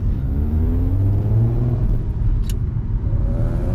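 The 3.2 V6 engine of an Audi TT MK1 hums and rumbles steadily from inside the car while driving at moderate revs, its pitch rising gently, with no talking over it.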